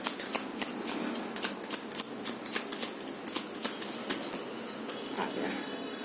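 Tarot cards being shuffled by hand nearby, a run of crisp rapid riffles and flicks in quick irregular bursts, with no talking over them.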